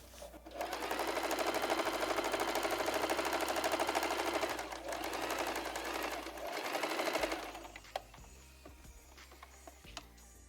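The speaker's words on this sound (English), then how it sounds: "I'm just sewing my seam allowance is just half a centimeter or so." Close sewing machine stitching a pocket seam with a narrow half-centimetre allowance, a fast steady mechanical whir for about seven seconds, then stopping, followed by a few small clicks and handling noises.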